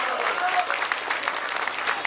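Steady applause from an audience at an Islamic sermon, dense clapping throughout with some crowd noise mixed in.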